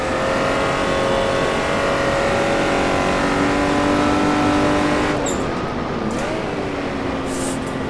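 A Jaguar D-type race car's engine at Goodwood, heard from on board: a loud, sustained howl held at high revs, then a brief drop and swoop in pitch at a gear change before it climbs again.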